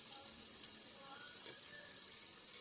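Spiced masala for Mangalore-style chicken sukka frying in a pan with oil, ginger and chilli, a steady close sizzle that continues throughout, with no talking.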